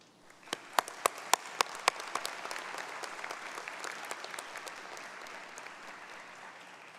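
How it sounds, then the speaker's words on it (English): Audience applause at a university fall commencement ceremony, a few loud close claps at first, then swelling into a broad, steady ovation from a large crowd. "Graduates, please join me in saying a heartfelt thank you with your applause."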